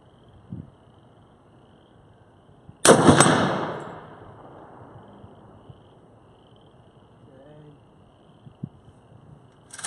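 A single loud rifle shot from a FIME Group Molot VEPR, a .308 AK-pattern rifle, cracks sharply and trails off in a long, rolling echo outdoors, with quiet background noise before and after.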